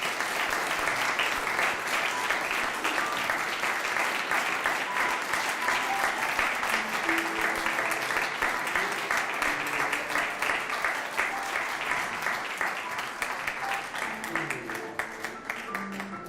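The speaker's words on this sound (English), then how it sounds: "I invite you to give her a round of applause for Lois Alpern" An audience at a leadership ordination ceremony applauds steadily, with dense, sustained clapping that continues throughout and fades slightly toward the end.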